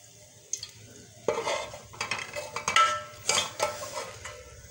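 A spoon scrapes and clinks against a pot while browned degi qorma is pressed to squeeze out its oil, giving irregular close metallic scrapes and taps over a faint sizzle, with no talking.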